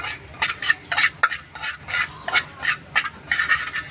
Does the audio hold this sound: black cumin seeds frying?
yes